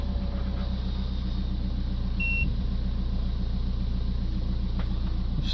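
A Peugeot that had trouble starting runs after several battery replacements, its engine settling into a steady, even idle rumble heard up close, with a brief electronic beep partway through and a faint chime near the end.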